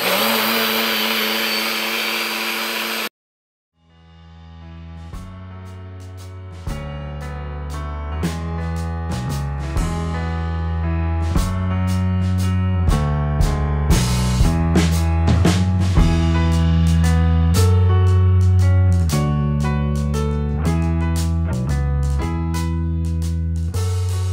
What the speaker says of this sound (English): you can use any blender that you have in your home